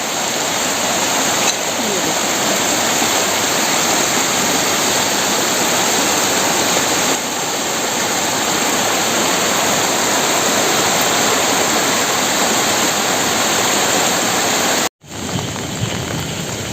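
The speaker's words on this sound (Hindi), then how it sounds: "पानी का बहाव बहुत ज़्यादा हो गया है।" Floodwater rushes hard along a street at night, a loud, steady broadband roar of fast-moving water that fills the whole stretch, briefly cut off near the end before resuming.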